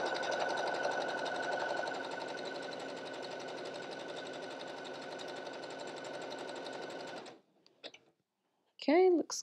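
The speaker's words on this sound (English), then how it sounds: "zigzag this hem real quick with a little bit narrower stitch length, a little bit longer" A sewing machine zigzag-stitches a hem with a narrow stitch width, giving a steady, close, busy mechanical whir for about seven seconds before it stops. A short voice follows at the end.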